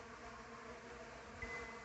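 Defensive stingless bee colony swarming at a meliponary during hive management, a continuous faint buzzing drone of many bees, steady and unbroken, with no talk.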